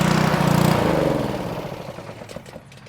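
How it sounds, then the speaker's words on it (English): Small gasoline engine on a pressure washer running after a carburetor cleaning: a loud, steady, close mechanical drone with a low hum at first, easing slightly as it runs evenly, with no talking. "The engine is running good."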